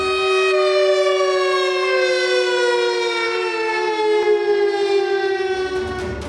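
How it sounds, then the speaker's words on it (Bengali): A civil defense siren sounds at 12:15 to mark the moment of Netaji's birth, one loud sustained wailing tone with a slight dip in pitch, close and continuous throughout. "বেলা 12:15 নেতাজির জন্ম মুহূর্তকে স্মরণ করে বেজে ওঠে সাইরেন"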